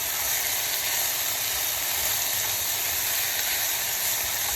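A steady, bright hiss of onion and red chili pepper frying in a hot pan, even and continuous throughout with no talking.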